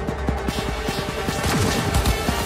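Rapid automatic gunfire in a Cyberpunk 2077 shootout, a run of evenly spaced shots at moderate level with a busier, overlapping burst toward the end.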